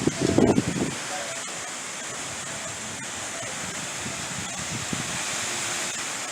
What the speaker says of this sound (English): now the wind gusts are picking back up again.